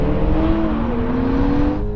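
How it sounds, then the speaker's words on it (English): A Toyota Supra with a 3.0 litre engine accelerating in a drag race, a loud continuous engine drone with rising harmonic tones that bend through the run, no talk. "Here comes a 3 litre now."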